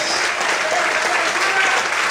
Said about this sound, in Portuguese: levanta a sua mão, glorifica e aplauda ao Senhor bem forte